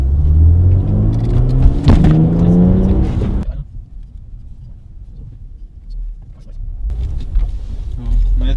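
A BMW 330i N52B30 engine with a sound generator revs hard in second gear and climbs in pitch under acceleration from 1000 rpm, then drops to a low idle rumble before building again.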